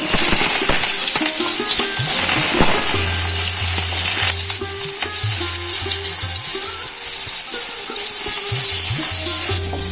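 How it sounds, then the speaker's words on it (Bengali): Potato pieces sizzle loudly in hot mustard oil with salt and turmeric, a continuous close hiss and crackle over the whole stretch, with light stirring and scraping in the pan and no talking. "সর্ষের তেল দিয়ে দেব তেল গরম হয়ে গেছে এই আলুগুলো প্রথম দেব নুন আর হলুদ দিয়ে ভেজে নেব"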